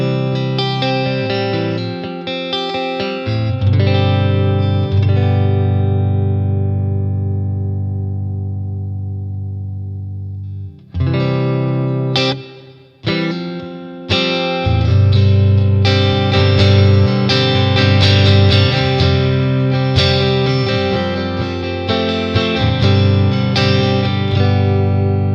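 Electric guitar played through a BOSS Katana 50 MKI amp with no reverb, loud distorted chords and riffs ringing out alone, with a short pause and a few choppy stabs midway before sustained heavy playing resumes.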